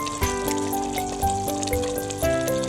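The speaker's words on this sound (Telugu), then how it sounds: "ఆ మసాలా ముద్ద అనేది మంచిగా ఫ్రై అయ్యేంత వరకు మనం ఫ్రై చేసుకోవాలి" Masala paste of chilli, tomato and salt fries in oil for a village-style spicy fish curry, giving a loud, close sizzle with crackling and steady tonal hum underneath, and no talking.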